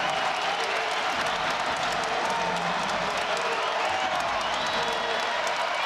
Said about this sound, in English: Abube gets a great hand from the crowd